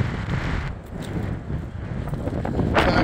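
Evening wind blowing outdoors at a car-hauling loading site, with a steady rumbling buffet on the microphone that swells slightly toward the end.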